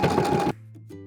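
A sewing machine runs briefly along the folded fabric edge of a Christmas stocking, a loud close half-second whir that cuts off, followed by faint clicks.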